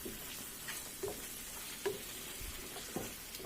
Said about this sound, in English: So I'm going to just let this fry for a little while more along with the eggs.